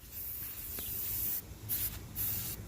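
Spray paint from an aerosol can hisses out in several close, sharp bursts with brief gaps between them, while work is done on a custom keyboard.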